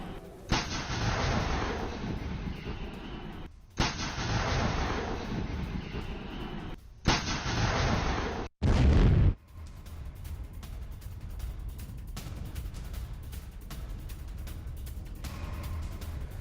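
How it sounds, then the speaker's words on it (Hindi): Heavy explosions and artillery fire strike a weapons depot in Makiivka, Donetsk, with long booming roars repeating in bursts, one sharp loud blast, then a lingering distant rumble. "यूक्रेनी हमले में रूसी वेपन डिपो तबाह।"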